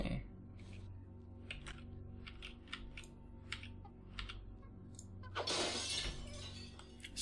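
Glass shatters in the video game System Shock 2, a bright crashing burst of breaking panes after several seconds of scattered computer keyboard clicks over a low steady hum.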